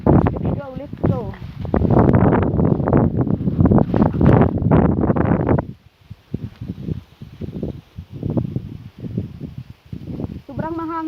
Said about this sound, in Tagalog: Sobrang mahangin ngayon